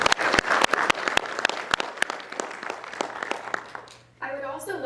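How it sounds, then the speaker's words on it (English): Applause at an artist talk for an art exhibition, brisk clapping from a modest audience with distinct sharp claps that thins out and fades, followed by a voice starting to speak. "So let's have a round of applause for them and for all of our sponsors."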